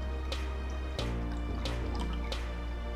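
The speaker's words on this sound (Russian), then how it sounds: "Апельсиновый сок переливаю в миску." Freshly squeezed orange juice poured into a bowl for a chicken wing marinade, heard as a few soft liquid drips and trickles over a steady low kitchen hum, close and fairly quiet.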